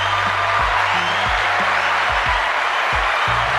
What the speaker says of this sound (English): Another round of applause for them, by the way.